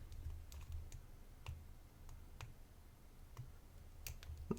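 Faint, sparse clicks from the pins of a vintage Burg Wachter cabinet lock being picked, small taps scattered across a quiet background.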